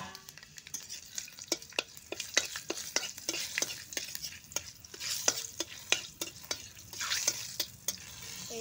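Bay leaves and panch phoron spices fry in hot oil for a chicken curry, with a soft continuous sizzle broken by frequent sharp scraping stirs of a spatula against the pan, close and steady, without talk.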